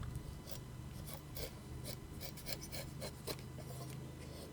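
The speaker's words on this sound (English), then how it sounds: "as you can see with some softer wood, we can make some much finer shavings" Woodman's Pal tool shaving fine curls from softer wood, a quiet series of dry rasping strokes in a fairly regular rhythm, close and faint.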